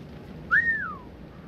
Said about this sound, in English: Whistle, whistle.